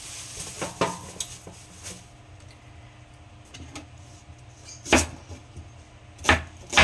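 Dishes and utensils clatter in a kitchen sink during cleaning, with scattered clinks and a few sharper knocks over a low steady background hum, moderately loud and without talk.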